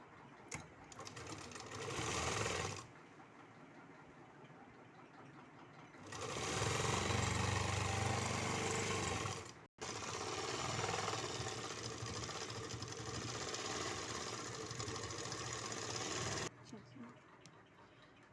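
A sewing machine stitches lining into a salwar in bursts of fast, even whirring, stopping and starting several times, with a voice speaking between and over the runs.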